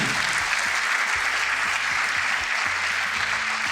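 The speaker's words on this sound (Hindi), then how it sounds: "एक बार जोरदार तालियां बच्चों।" Loud applause from students at a coaching institute ceremony in India, a dense, sustained roar of many hands clapping with a low steady hum beneath it.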